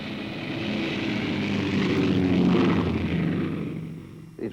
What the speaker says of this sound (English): The final choice was the Junkers G-31, made in Germany.